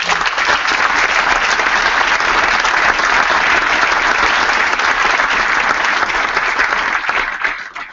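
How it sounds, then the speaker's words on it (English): A large audience at a Kick It Out anti-discrimination event gives a sustained round of applause, loud and even throughout before tapering off in the final second. "if I can get one more round of applause just for them as well"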